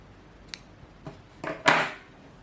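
Scissors snip through crochet yarn at the end of a round, giving a few short dry cuts that build to one louder, clearer snip near the end, close by against a quiet room.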